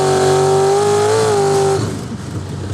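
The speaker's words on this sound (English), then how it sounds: "I've never experienced acceleration anything like this." A supercar launches hard from a standstill, its loud engine note rising steadily in pitch for nearly two seconds before cutting to a rougher, quieter roar as it shifts or backs off.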